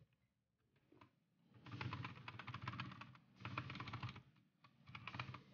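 Quick close typing on a budget 65% Ziyoulang T8 mechanical keyboard fitted with jelly tape and band-aid padding comes in bursts of dense, muted clacks separated by short pauses.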